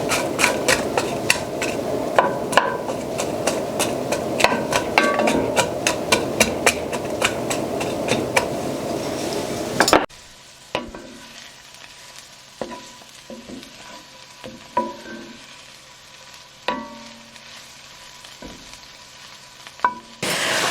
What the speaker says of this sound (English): add our onion and pepper strips to the skillet. And we're going to let these start sauteing